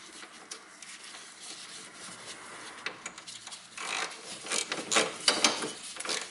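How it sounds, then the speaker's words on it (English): Ratchet socket wrench with a 10mm socket tightening door bolts on a Toyota Corolla during a door lock cylinder replacement, giving soft, uneven clicking and rubbing that builds toward closer, louder ratchet bursts near the end. "then I fasten these bolts"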